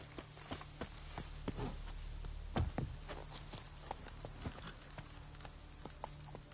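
Horse hooves clip-clopping in The Witcher 3, a steady rhythm of muffled, moderately close hoof thuds over a low ambient game soundscape.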